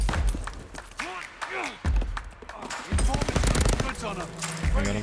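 A Welgun fires in rapid automatic bursts in the video game Call of Duty: Vanguard, with loud, close rattling shots and a player talking excitedly over the gunfire.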